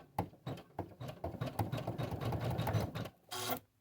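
An embroidery machine tacks down yellow applique fabric with a close, rapid mechanical stitching rattle that starts in short bursts, runs steadily for a couple of seconds, then stops before one last brief burst.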